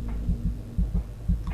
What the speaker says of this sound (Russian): У меня сердце бьется.